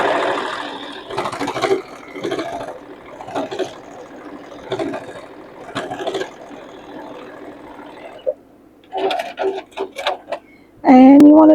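A sewing machine stitching a fabric strap for a circle bag, running in short stop-and-start bursts of rapid mechanical whirring, close and moderately loud, ending in a sudden louder steady tone.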